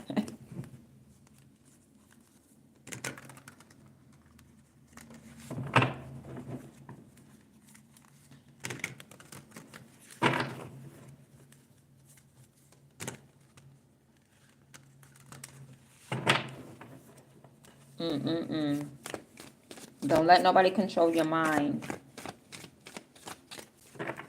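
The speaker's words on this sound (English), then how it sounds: "That's why y'all see me shuffling, right?" A deck of cards being shuffled in bursts of crisp riffling and patter, repeated several times with pauses between, close by; a person talks at points.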